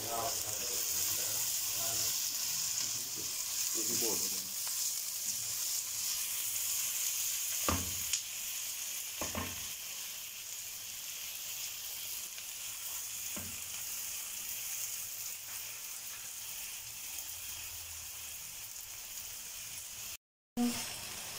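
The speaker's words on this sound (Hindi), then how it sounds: "जब हमारा प्याज है वो अच्छी तरह भून जाएगा, हल्का ब्राउन हो जाएगा" Onions and tomatoes frying in a pan sizzle and hiss steadily, with a few faint stirring scrapes. The sound is fairly soft and broken near the end by a brief gap.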